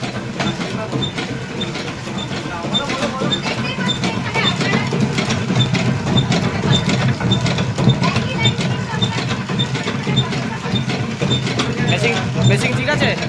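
A batasa sugar candy making machine runs steadily with a dense, continuous mechanical clatter, fairly loud and close, while people talk over it.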